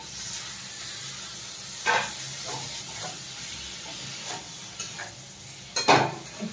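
Capsicum being stirred and fried in a pan, a soft steady sizzle broken by a few sharp scraping stir strokes, close and moderately quiet with no talk.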